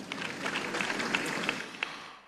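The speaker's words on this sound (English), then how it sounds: "Another round of applause for Coach Dos." At a national sport awards ceremony in Botswana, an audience gives a brief burst of applause that swells and then fades away over a couple of seconds.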